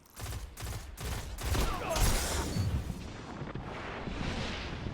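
Rapid bursts of Hawksaw pulse-rifle fire in Destiny, loud and close, several sharp volleys in the first half giving way to a denser rumbling mix of shots and impacts.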